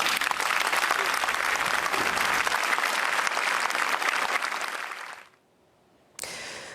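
A crowd claps at a memorial ceremony for a child, where white balloons are released. The applause is sustained and even for about five seconds, drops to near silence, then briefly returns.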